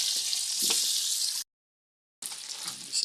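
Onions sauté for pancit bihon with a bright, hissing sizzle, cut by a brief silence before the frying noise returns at similar strength.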